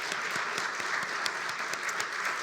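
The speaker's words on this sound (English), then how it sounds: "I'd like to give them a round of applause" Moderate audience applause at a peace event, even and continuous with individual claps standing out, heard from a short distance.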